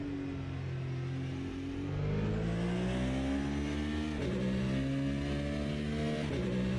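In a racing video game, race cars including a Ferrari close in, their engines wailing loudly and continuously, with pitch sweeping up through gear changes, then dropping and climbing again.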